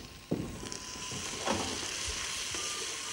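Vegetables sweating gently in oil in a cocotte, a soft continuous sizzle with a few small crackling pops, close and alone with no talk.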